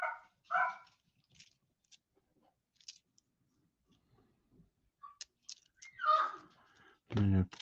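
A dog barks in short bursts around the room, with one loud, close bark near the end and quieter yaps earlier, while a person speaks in between.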